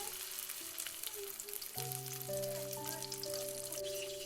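Beef patty mixture scooped into oil in a pan that started cold, giving a steady close sizzle and crackle with no talking.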